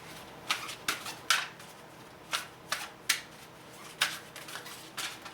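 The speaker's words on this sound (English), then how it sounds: "I will go ahead and do my shuffle." A deck of spirit animal oracle cards is shuffled by hand, producing a series of about ten short, crisp riffling bursts in an irregular rhythm, close and fairly quiet against a silent room.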